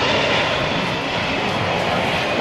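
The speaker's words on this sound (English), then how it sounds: "we'll turn the airplane around" Four-engine C-17 Globemaster III military transport turning around on the ground at an air force base open house, its jet engines producing a loud, steady, broadband roar that holds constant throughout.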